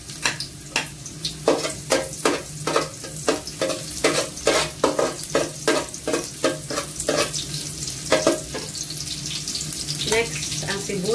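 Garlic sizzles and fries in oil in a pan while a utensil stirs it with steady, rhythmic scraping strokes, close and clear over the continuous sizzle.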